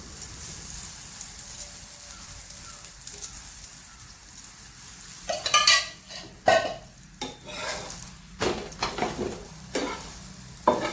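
A four-colour stuffed paratha roasting in oil on a pan, with a steady soft sizzle under repeated spatula scrapes and clinks as it is flipped and pressed, the taps growing busier toward the end.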